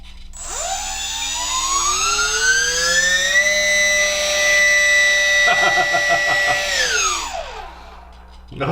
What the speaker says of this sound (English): Let's go ahead and do our thrust check here.